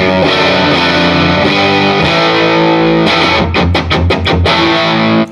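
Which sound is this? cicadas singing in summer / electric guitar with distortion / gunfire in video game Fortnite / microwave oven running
electric guitar with distortion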